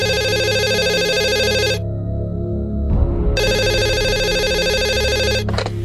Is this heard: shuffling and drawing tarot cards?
no